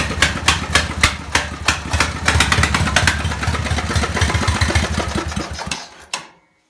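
A small engine on a cold start with the choke on and fuel pump running sputters and pops rapidly, then catches into a loud, uneven buzzing run that ends abruptly.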